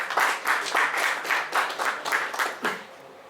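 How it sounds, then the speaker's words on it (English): Participants at a stock market training session give their trainers a round of applause: a roomful of people clapping in rhythmic, pulsing bursts that gradually thin and fade out. "we should give a big round of applause to Sir and Madam"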